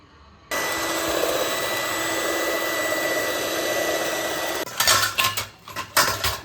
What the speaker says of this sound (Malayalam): ഈ മുട്ട നമ്മൾ ബീറ്റ് ചെയ്യാൻ എടുത്തിട്ടുണ്ട്. ബീറ്റർ വെച്ച് നമുക്ക് ബീറ്റ് ചെയ്തെടുക്കാം.